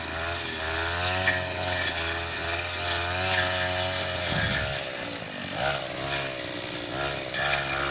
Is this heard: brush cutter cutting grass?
yes